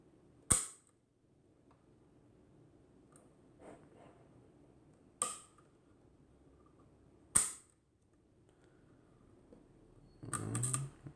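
A Kodak 3A Special Model B folding camera shutter is cocked and fired, giving three sharp isolated clicks several seconds apart, close and crisp against near silence, with a brief rustle of handling at the end.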